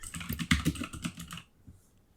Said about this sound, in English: Tap the keyboard.